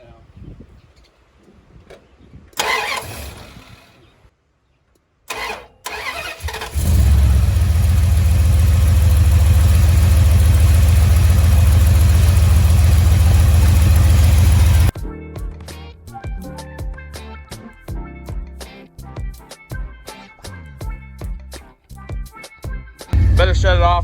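A 1977 Dodge D200 truck engine cranks briefly after some scattered noises, then starts and settles into a loud, steady idle for several seconds before it is shut off. Clanks and knocks follow, and a voice speaks near the start.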